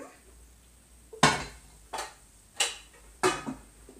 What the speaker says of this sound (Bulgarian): Изсипваме нашата плънка.